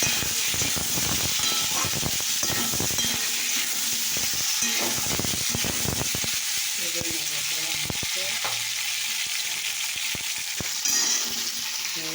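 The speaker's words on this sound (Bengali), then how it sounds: "এদিকে দেখো 5 ফোড়ন দিলাম" Bengali five-spice tempering sizzling in hot oil, a strong continuous crackling hiss with scattered pops and clicks from stirring, steady and close throughout, no speech.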